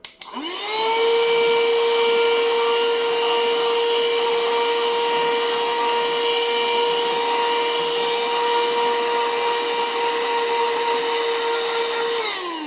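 A Xiaomi handheld car vacuum cleaner switches on and runs with a loud, steady high-pitched whine for about twelve seconds before spinning down; no one speaks.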